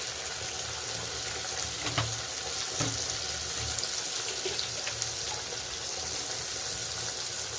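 Ground cumin and turmeric sizzling in hot oil in a pan while a goat head and cauliflower curry is cooked, a steady broadband fry with a few soft clinks of stirring, no talk.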